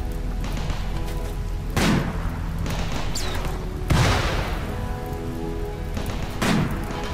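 Steady rain patters in the video game Rimworld, a constant hiss with three louder thumping bursts spaced a couple of seconds apart.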